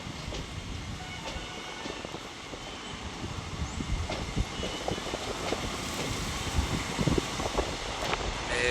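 A goods train loaded with cars rolls past close by, a steady heavy rumble with rhythmic clanks of wagons over rail joints running throughout.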